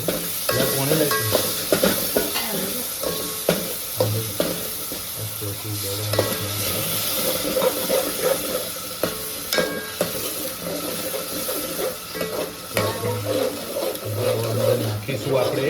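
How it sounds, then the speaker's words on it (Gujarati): Curry leaves crackle and sizzle in hot oil as a spoon stirs and scrapes the pan, a dense, loud frying hiss with repeated scraping strokes throughout. "આપણે નાખીશું થોડા કઢી પત્તા, મીઠો લીમડો નાખી દીધું છે"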